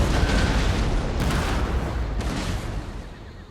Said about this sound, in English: We've got our cannons on the hill.